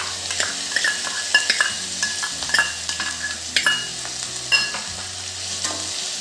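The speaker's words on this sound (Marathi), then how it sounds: "आपण छान परतून घेऊ तेलात। बारीक चिरलेला कांदा टाकते।" Finely chopped onion fries in oil for a matki usal while being stirred, a loud close sizzle with repeated scraping stirs and light utensil clinks, no talking.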